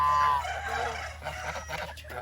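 Farm fowl call out at close range, with a chick's high chirps among clucking and honking birds, busy and continuous, with no one talking.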